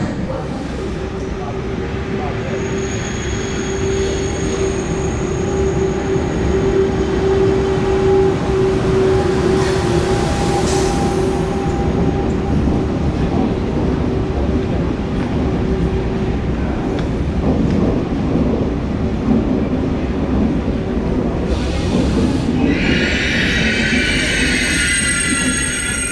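Inside a refurbished Thalys PBKA high-speed train, a loud steady rumble and roar of motion carries on throughout, with a faint tonal whine and a brief hiss near the end.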